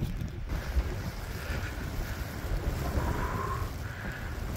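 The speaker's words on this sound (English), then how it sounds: "It's real windy today." Strong wind roars steadily outdoors in deep snow, like a blizzard, a continuous broadband rush with gusty swells and no voices.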